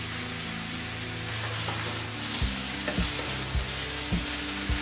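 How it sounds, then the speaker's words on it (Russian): Cabbage fries in a pan with a constant crackling sizzle, and from the middle on, repeated scraping strokes of stirring come every half second or so. "Капуста обжаривается немного."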